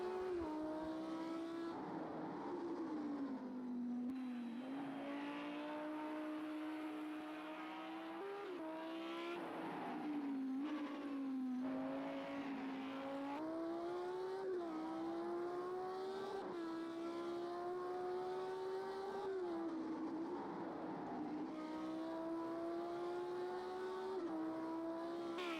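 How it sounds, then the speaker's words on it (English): A GT3 race car engine in Project Cars 2 on the Nordschleife, a steady high-pitched drone that rises and dips through gear changes with faint tire squeal, quiet and continuous with no talk. "Engine doesn't sound great, but oh well."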